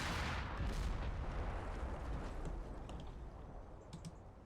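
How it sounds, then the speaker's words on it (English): A small 37mm tank gun fires in a tank video game, giving dense, booming bursts over a continuous roar of game noise, with sharp impacts near the start. "At least you get a good rate of fire with the little 37mm gun."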